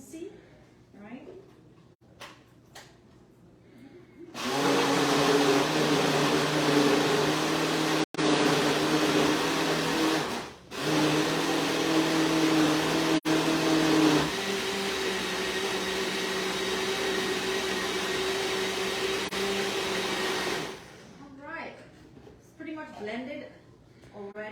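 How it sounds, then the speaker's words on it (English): A blender purees a Thanksgiving side dish mixture with oil, pepper and salt, running as a loud, steady motor whir for about sixteen seconds with a short dip partway through. Quieter sounds and voices come before and after. "pretty much what we're going to be doing is just blending this mixture, nice and smooth consistency"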